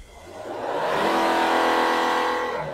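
Volvo diesel engine with a Bosch EDC16C31 control unit, running rough with vibration and knocking, revved up in a steady loud rise that holds near and then eases slightly, with no talk over it.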